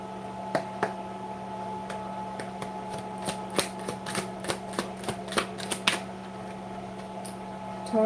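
Tarot cards being shuffled with a light, gentle shuffle: a steady run of soft riffling flicks and taps, close and clear, over a faint constant hum.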